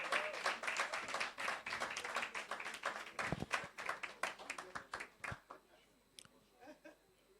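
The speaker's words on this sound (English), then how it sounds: "another hands of applause for them, please" Audience applause at a NIFS Lagos event session, a dense burst of clapping with some chuckles that thins out and fades after about five seconds.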